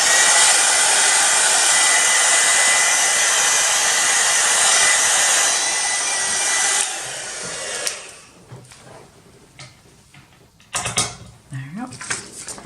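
A heat embossing tool blows a loud, steady rushing stream of hot air for about seven seconds to dry and emboss images, then cuts out, leaving quieter clatter and handling sounds.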